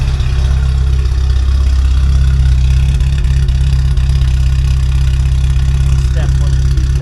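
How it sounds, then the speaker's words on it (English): A Yugo car idles with a DIY exhaust after repairs, a loud, steady, deep low rumble running close and unbroken throughout. "Let's hear this exhaust."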